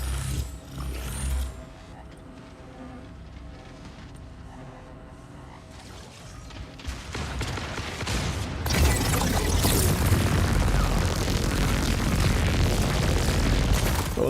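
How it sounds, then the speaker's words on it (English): An explosion in the Mech Arena game: mechanical whirring and clanking give way to a loud, sustained booming blast that fills the last several seconds. "Oh, that was quite the explosion."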